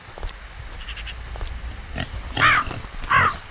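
Pigs grunt in a horror game set on a farm, two loud snorting grunts close by near the end over a low rumbling background with faint clicks.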